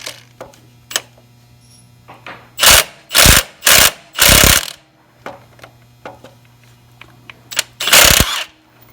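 A ratchet wrench removes a bolt from the injection pump of a 1977 Wanderlodge FC, giving several loud bursts of rapid clicking separated by pauses, with small metallic taps between them.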